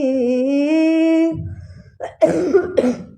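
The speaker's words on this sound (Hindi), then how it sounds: "खांसी।" A sustained sung note breaks off, then a pause, followed by a couple of harsh, close coughs.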